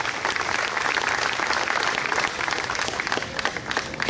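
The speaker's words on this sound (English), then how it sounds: "All right, another round of applause for our new trustee," An audience applauds a newly sworn-in village trustee, Brian Fagen, with steady, dense clapping from a room full of people at a local swearing-in ceremony, sustained and fairly close throughout.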